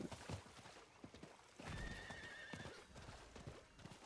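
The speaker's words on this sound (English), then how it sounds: "And the horse going faster." Hooves clatter in a quick galloping rhythm in Diablo IV, and a horse gives a short whinny partway through. Both are moderately close and heard without speech.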